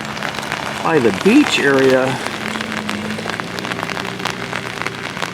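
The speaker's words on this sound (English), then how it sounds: "I'm holding my umbrella, so that is the noise that you hear because it is starting to drizzle again" Steady light patter of drizzle on an umbrella in a Burlington, Vermont cemetery, close and continuous, with a person briefly talking over it early on.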